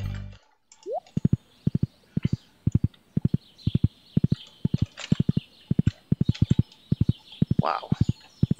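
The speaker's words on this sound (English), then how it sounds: "you could make the pig sing like that." A pig sings in Stardew Valley 1.4 as a steady run of short, evenly spaced tonal notes, loud and close. Each note is clipped and bouncy, with faint game ambience and an occasional brief squeal between them.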